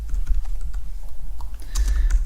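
Rapid, close keystrokes clatter on a computer keyboard while C++ code is entered, a steady run of crisp clicks with a denser burst near the end and no talking.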